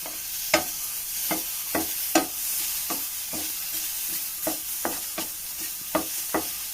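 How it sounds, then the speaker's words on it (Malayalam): Small bananas roast in ghee in a pan for payasam, giving a steady soft sizzle with a dozen or so sharp spoon scrapes and taps at irregular intervals, close and fairly loud, with no voices. "നെയ്യിൽ ഇങ്ങനെ പഴം വറക്കുമ്പോൾ"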